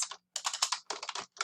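Quick bursts of keystrokes on a computer keyboard as a Google user ID is entered, clustered clicks with short pauses between groups, close and fairly quiet with no talking.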